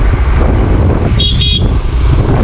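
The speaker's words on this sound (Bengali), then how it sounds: "কেউ নেই সামনে, তাও হর্ন দিচ্ছে দেখো" On a riverside road amid steady, loud traffic rumble, a vehicle horn sounds two quick toots in close succession.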